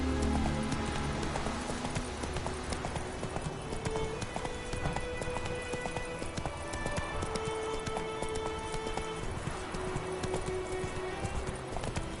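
Roach the horse galloping in The Witcher 3: Wild Hunt, a brisk, continuous drumming of hooves over game music and ambience, with a voice calling out briefly.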